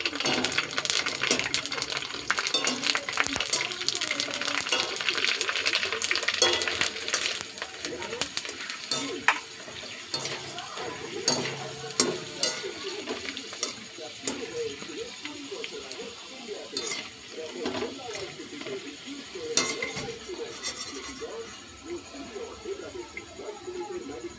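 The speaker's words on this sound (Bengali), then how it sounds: "তো এবারে আমি কটা ফুচকা নিয়ে কড়ার মধ্যে দিয়ে দিয়েছি" Fuchka puris fry in hot oil in a wok with a lively crackling sizzle, broken by frequent utensil scrapes and clinks as they are stirred. The frying is loudest early on and settles to a softer bubbling.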